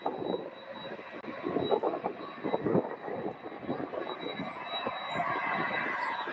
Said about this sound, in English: you have a Kalita flight 2950 Boeing 747-400 in the old Connie livery